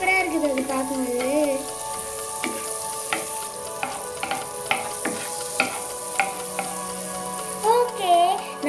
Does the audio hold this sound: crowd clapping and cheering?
no